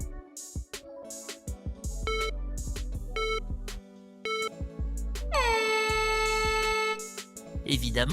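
A voice clip of the character Oax from the Incredibox Sprunki game: a run of bright, horn-like synthetic tones and beeps in choppy bursts, ending in a long sustained tone that glides downward, with no spoken words.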